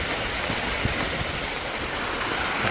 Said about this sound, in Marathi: भयानक पाऊस चालू आहे